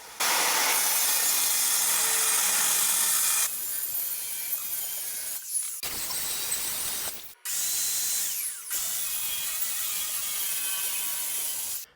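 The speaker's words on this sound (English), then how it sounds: "cut 1-foot wide strips with a circular saw and a guide." A circular saw running along a guide cuts plywood strips laid on 2x4s, making long, loud, steady whining rips separated by short pauses, close by, with no voices.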